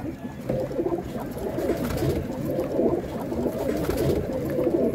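Pigeons coo in low, throaty, rolling bursts, several birds close by and fairly loud, overlapping continuously through the whole stretch with no talk.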